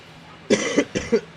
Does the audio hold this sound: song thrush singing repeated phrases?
no